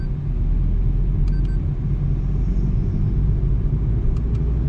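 A Maruti Fronx car accelerates while shifting through the gears, a steady low engine hum and road rumble from inside the cabin with a couple of faint clicks, and no talking.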